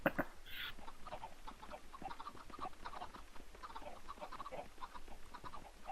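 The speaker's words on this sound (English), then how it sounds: "Now there's 50 chickens in this in the hatching pool." Many chickens in a Minecraft-style game cluck and chatter at once in a dense, continuous flock sound from about 50 birds in a hatching pool, moderately faint, with no voices over it.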